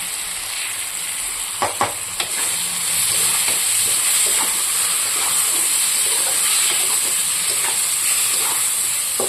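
Spice paste being stirred into fish curry frying in a pan, with rupchanda fish and brinjal cooking; a steady close sizzle and hiss runs throughout, broken by a few brief scraping taps of a spatula near the start.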